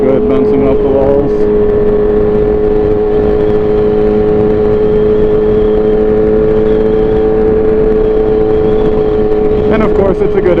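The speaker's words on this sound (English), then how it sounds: "that exhaust sounds so good, bouncing off the walls." A motorcycle exhaust drones loud and close at a steady pitch as the bike rides between walls, the tone reflecting back off them, with a slight rev near the end and talking over it.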